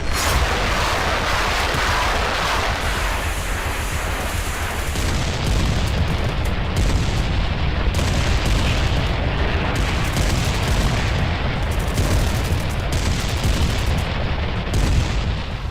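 Heavy, sustained rumbling booms of artillery shelling in Nagorno-Karabakh roll on continuously, loud and dense, with blasts overlapping into a constant thunderous roar.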